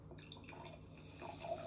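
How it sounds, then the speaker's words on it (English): Vinegar is poured into a cup during a dancing-popcorn density experiment, making a faint, thin liquid trickle and drip that grows slightly stronger toward the end. "add the vinegar"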